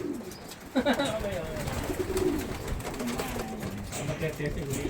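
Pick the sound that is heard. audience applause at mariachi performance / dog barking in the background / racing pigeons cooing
racing pigeons cooing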